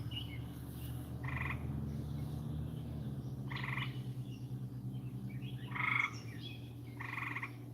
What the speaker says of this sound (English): Them damn frogs is loud tonight